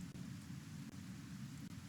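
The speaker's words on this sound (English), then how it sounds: "everyone over here looks okay, aside from the fact that acid's raining on them" Steady acid rain pouring down in the video game Kenshi, a dense continuous hiss with a low rumble of thunder beneath it, no voices.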